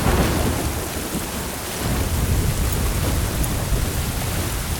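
Heavy rain pours down with deep rumbling thunder rolling through, a dense, loud, continuous storm roar.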